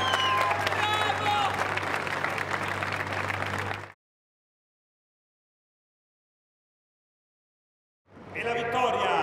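Audience applause for the winning Italian driver at a Pirelli Trophy world finals event, a loud steady burst of clapping from a crowd, cut off by about four seconds of silence before it resumes just as loudly.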